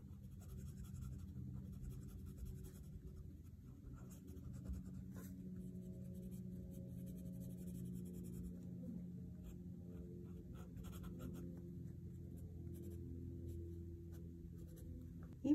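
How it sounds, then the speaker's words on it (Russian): Colored pencil drawing on paper, shading a persimmon branch in dark green: a quiet, continuous soft scratching of pencil lead across the sheet, steady and close, with no talking. "Беру такой темно-темно-зеленый карандаш и чуть-чуть вплету этот цвет в ветку."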